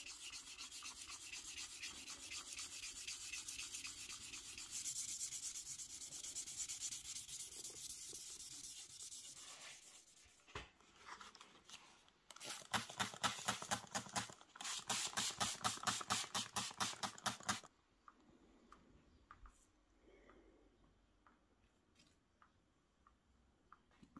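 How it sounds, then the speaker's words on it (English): Aprilia RSV Mille motorcycle side panels rubbed down by hand, a steady scratchy sanding stroke giving way to rapid rhythmic back-and-forth rubbing, close and clear, then fading to quiet handling noises. "So I've already started these side panels, I rubbed those down."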